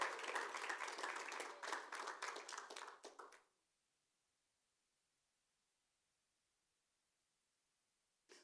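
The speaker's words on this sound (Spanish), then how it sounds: "denle un aplauso fuerte al Señor" A church congregation claps loudly for the Lord, a burst of fast, dense applause lasting about three seconds before cutting off abruptly into near silence.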